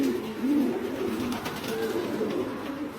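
Racing pigeons coo in a loft where ringed young birds sit and others brood eggs: several soft, throaty, rolling coos that overlap close by against a low background hum.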